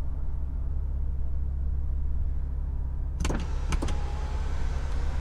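Electric motor of the panoramic sunroof in a BMW X3 M, a steady low hum inside the cabin with a few sharp clicks and thumps near the end as the roof panel moves, no voices.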